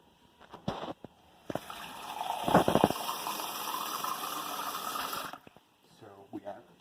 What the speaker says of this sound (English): So we add 2 cups of water